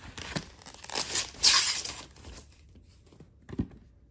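Tape rips off a StopBox quick-access handgun retention device in a few short, close tearing bursts, then a lighter crinkle and a faint tap near the end.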